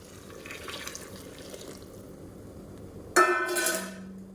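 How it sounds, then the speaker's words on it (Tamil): Boiling hot water pours into a pot of mutton for biryani with a sudden close splash and gush, after a quieter stretch of faint bubbling. "சுடு தண்ணியாக நல்லா கொதிக்கிற தண்ணியை சேர்த்துக்கோங்க"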